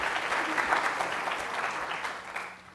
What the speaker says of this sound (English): Another big round of applause to Mr. Sun